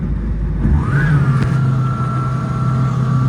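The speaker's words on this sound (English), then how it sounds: "Okay, we're gonna go ahead and bring the throttle up." A 2008 Yamaha 212X wakeboard boat's engine throttles up, the pitch of the motor rising sharply and then holding a steady, loud drone close by over constant water and hull rumble.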